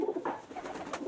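A pigeon gives soft, low coos in a short burst, close to the microphone and without any talking.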